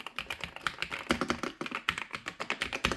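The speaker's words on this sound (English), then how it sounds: "This uses the Wisteria linear switches that have a good amount of clickiness to them." Rapid typing on an EPOMAKER Cypher81 75% mechanical keyboard fitted with Wisteria linear switches, giving a steady run of crisp, close clacky keystrokes with no talking.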